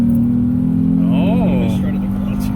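Chevy GMT400 OBS truck accelerating hard, a loud engine roar rising and falling in pitch under a person's voice speaking up close.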